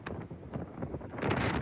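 Strong storm wind gusts buffet the microphone in bursts, a rough rumbling roar that swells and surges toward the end, with no voices.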